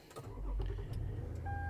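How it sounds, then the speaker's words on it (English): A Toyota engine starting with push-button ignition while the smart key fob has a dead battery: a close, steady low rumble builds and holds, and a thin electronic beep tone sounds near the end. "Now your car starts."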